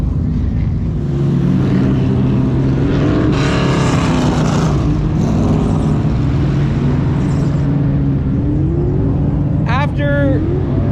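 Vintage modified race cars practicing at Flamboro Speedway, engines roaring loudly from close by the fence line with rising and falling pitch as cars pass, while someone speaks over them.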